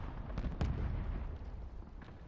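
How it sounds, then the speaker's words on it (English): A grenade blast in a video game, a few dull booming thuds and cracks with a rumbling low tail, moderately loud amid game ambience and no talk. "Still another grenade there."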